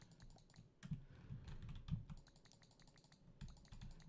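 Quick runs of rapid mouse clicks collecting pollen in a tree-breeding computer game, close and crisp in irregular bursts separated by short pauses, over a low, quiet background hum.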